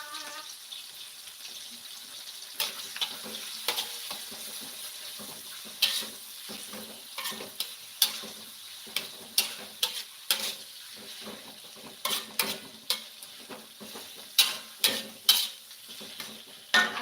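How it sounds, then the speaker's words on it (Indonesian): Onions sizzle in a frying pan as a spoon or spatula stirs them, giving a run of irregular scraping clacks and knocks over a steady hiss, close and moderately loud with no talking. "Aduk-aduk dulu."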